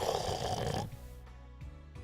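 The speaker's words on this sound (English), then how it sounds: "She got freaking tired and now she's snoring." A woman snores with a loud, rough breath at first, followed by quieter, softer breathing sounds.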